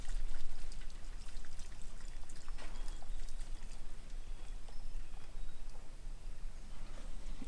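Water poured for a dog, a steady close trickling and splashing stream that runs without a break, with no talk over it.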